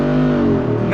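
A 2023 Jeep Rubicon 392 20th Anniversary Edition with its V8 engine accelerating on throttle, a loud steady roar with pitch rising briefly at the end of a short burst.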